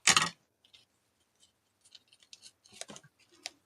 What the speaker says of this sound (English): Let's get some scissors, some ribbon scissors here. And then we can just trim this a little bit here.